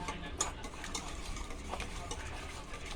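Two eggs being beaten in a bowl: quick, steady clicking of a utensil against the sides, fairly close, over faint background noise.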